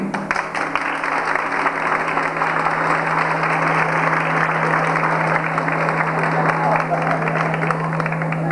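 Applause from teachers and students at a 1993 school year-end graduation ceremony, a dense steady clatter of clapping filling the hall throughout, with a constant low electrical hum underneath.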